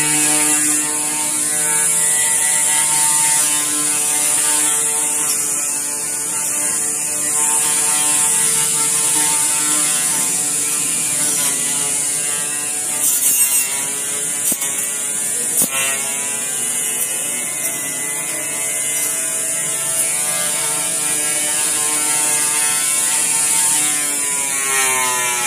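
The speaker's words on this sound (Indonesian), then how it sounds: "Suaranya sih nggak terlalu bising, cuma suara motornya aja, dan super kenceng banget." A 48V electric grass cutter motor runs steadily at high speed, a constant whirring drone with dense harmonic whine, briefly shifting pitch and load mid-way as it bites into grass, loud and close with no talking.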